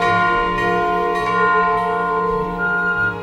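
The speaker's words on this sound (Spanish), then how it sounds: "ahí están los músicos tocando todas las campanas del momento este fantástico del tercer acto" Church bells peal in the third act of Puccini's opera Tosca, a dense layered ringing of many bells with sustained overlapping tones, played steadily and fairly loud throughout without any voices.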